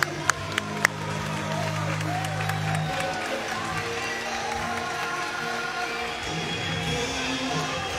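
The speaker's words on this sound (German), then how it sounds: "Nochmal Applaus an Jaku." A crowd applauds and cheers for a kickboxer after a close WKU title fight, with sustained clapping and cheering throughout and a voice heard near the start.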